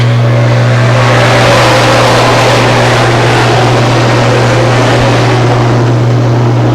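Dirt car 358 modifieds roar off at the green flag at Can-Am Speedway, a loud, saturated wall of engine noise with a steady droning hum throughout.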